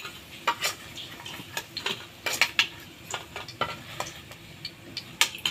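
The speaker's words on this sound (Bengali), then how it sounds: "এভাবে বাকি বড়াগুলো ভেজে নিচ্ছি।" Potato peel fritters with chopped onion frying in hot oil, a soft steady sizzle broken by frequent light clicks and taps of a utensil stirring or turning them in the pan, fairly close and without any talk.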